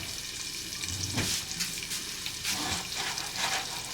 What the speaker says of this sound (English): That'll soft fry those potatoes, as Miss Brenda says, soft fried potatoes.